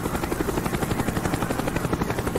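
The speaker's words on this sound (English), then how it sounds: "The chopper is coming around again." A helicopter circles in Call of Duty Black Ops, its rotor thumping in a steady, loud, rapid rhythm throughout, with no voices.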